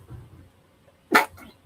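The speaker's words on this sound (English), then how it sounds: "nothing ever comes out when I sneeze" A single sharp, loud sneeze bursts out close to the microphone after a quiet stretch, from a man hosting a live comic book pre-order stream.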